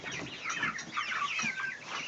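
A flock of young chicks near a broody hen and incubators chirps and clucks continuously, with overlapping high peeps close by.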